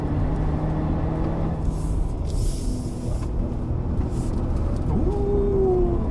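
A 2020 Proton X70 CKD with a 7-speed DCT climbs the Genting hill in manual second gear, its engine a steady low drone under constant road and tyre roar from inside the cabin, with no talk.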